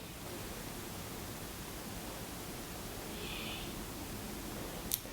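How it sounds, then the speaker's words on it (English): A hair dryer on a low fan setting blows on a chick that has just hatched, giving a soft, steady whooshing hiss that stays even for the whole stretch. "Two minutes of blow drying, and this baby looks good as new."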